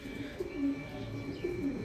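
Gola pigeons coo in a low, rounded rhythm, two short phrases repeating close by over faint background hum.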